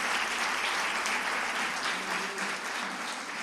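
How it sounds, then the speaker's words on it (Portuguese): A church congregation applauds during a Sunday celebration service. It is a steady, dense wash of clapping from many hands that holds at an even level throughout. "Queria que a igreja desse um aplauso a Jesus pela vida de todos"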